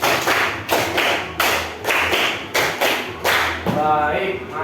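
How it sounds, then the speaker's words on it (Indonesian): A class claps hands together in a counted pattern, a steady series of sharp, loud, evenly spaced claps with no voices over them. "tepuk 5 2 kali"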